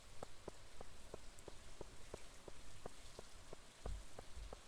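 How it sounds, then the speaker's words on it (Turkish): Rain falls in the Stardew Valley video game, a steady soft patter with evenly spaced light ticks repeating throughout, with no talking. "Bugün yağmur yağdı"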